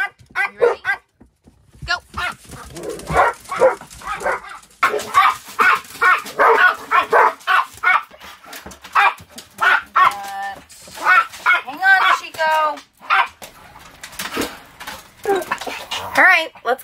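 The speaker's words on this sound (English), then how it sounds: "Walk some dogs." Dogs barking, yipping and whimpering excitedly as they are let out for a walk, short bursts scattered throughout and mixed with a person talking nearby.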